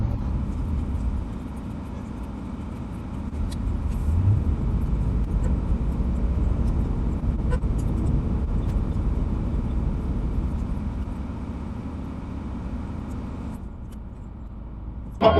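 Steady road traffic in a jam, a continuous low rumble of idling and slowly moving cars heard from close by, holding even throughout with a brief sharper noise at the very end.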